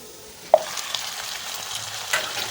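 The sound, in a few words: mutton frying in oil with onion paste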